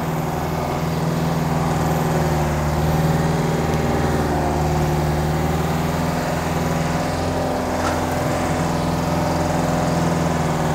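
A Unimog U411 cabriolet off-road truck pushes through deep mud in a swamp, its engine droning steadily and loudly throughout at a low, labouring pitch, with no voices over it.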